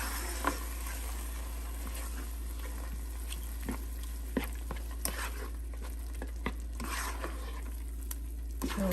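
A ground masala paste is stirred into hot oil for spinach chicken, giving a continuous soft sizzle with scattered scraping and tapping from the spoon against the pan.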